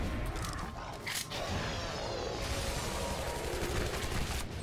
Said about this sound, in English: I don't know why I'm shooting him.